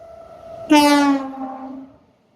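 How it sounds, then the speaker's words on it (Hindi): A Garib Rath Express train sounds a single loud, sustained horn blast for about a second as it passes through a green monsoon station on the Konkan Railway, fading quickly afterward. "गरीब रथ एक्सप्रेस है।"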